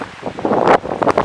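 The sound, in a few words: wind on a heathland trail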